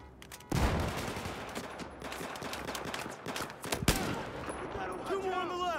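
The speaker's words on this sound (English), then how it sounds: "Watch out, I'm firing!" Gunfire in the Battlefield 4 video game: loud, dense bursts of rapid shots running through most of a six-second stretch, with sharp cracks standing out, mixed with shouted voices and fainter battlefield noise.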